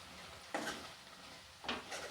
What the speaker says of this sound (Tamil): அப்படியே நல்லா கிண்டி விட்டுக்கோங்க.